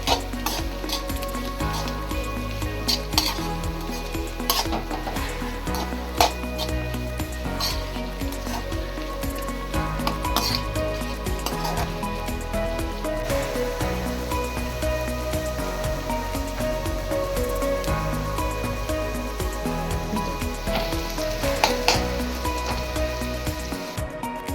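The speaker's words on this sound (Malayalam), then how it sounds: "തേങ്ങാക്കൊത്ത് ചീനച്ചട്ടിയിലിട്ട ശേഷം അല്പം ഉപ്പ് കൂടി ചേർത്ത്" Pieces of coconut with a little salt fry in a cheenachatti, a traditional Kerala pan, for a prawn masala, hissing loudly and without a break while a spoon scrapes and stirs them continuously, close up and with no talking.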